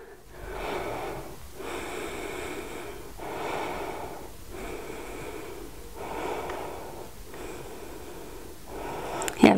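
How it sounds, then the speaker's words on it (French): Slow, steady breathing during a yoga posture, with about six long inhale and exhale cycles, close and soft, alone without talk. "On respire dans la posture."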